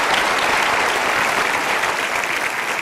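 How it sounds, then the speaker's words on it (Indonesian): A studio audience applauds at a television talk show, with steady, dense clapping filling the room continuously at close range. "Kita berikan aplaus."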